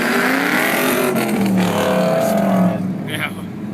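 A Mustang Bullet with headers and gears drag races an LS1 car, engines revving loudly with rising and falling pitch as they accelerate past, ending with a tire chirp and fading roar.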